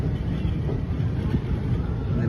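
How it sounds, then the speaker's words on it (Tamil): A train crosses near the Devanathi river by Nagapattinam, a loud, continuous low rumble that stays steady throughout with no distinct breaks, close at hand. "இப்போ ட்ரெயின் ஜஸ்ட்டு கிராஸ் ஆகிட்டு இருக்கிறது"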